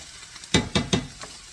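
Three garlic pieces drop one after another into a hot, sizzling pan, each landing as a sharp burst of spitting oil, followed by a fainter fourth crackle over a low background fry.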